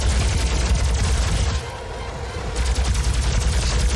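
Sustained rapid gunfire from a first-person shooter, the DOOM video game, blasting in dense continuous bursts with a short dip in the middle before the loud spraying resumes.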